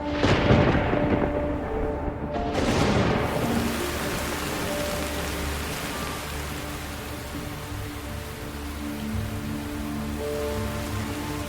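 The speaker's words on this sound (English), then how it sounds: "Sudden torrential rainfall soaks the dry mountain." Torrential rain pours down on a dry mountainside in a dense, steady roar of drops, with louder bursts early on and low rumbles underneath, continuing without voices.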